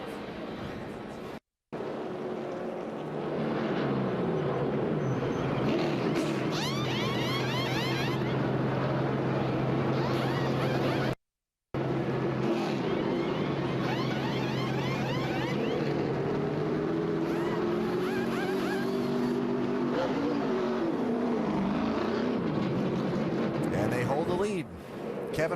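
NASCAR Nationwide Series race cars roar around Richmond International Raceway during a night race, a dense, continuous engine drone with passing pitch sweeps, briefly cut out twice, under broadcast commentary.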